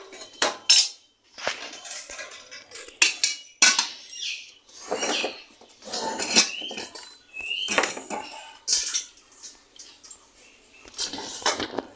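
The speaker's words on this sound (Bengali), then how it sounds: "4 জনের জন্য 4টা ভাতের থালা নিয়ে নিলাম" Four rice plates clatter and clink as they are taken out and handled, in short irregular bursts of close metallic knocks with quiet gaps between.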